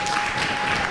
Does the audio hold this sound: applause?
yes